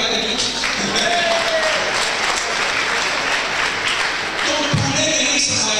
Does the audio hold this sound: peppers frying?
no